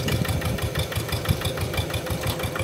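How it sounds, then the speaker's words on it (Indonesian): A hand tractor engine runs steadily in a deep, wet field, a loud, close, rhythmic chugging at a moderate throttle with no voices. "Terus kata Bapak Samin, gas untuk traktor yang kondisi lahan seperti ini itu jangan terlalu kencang"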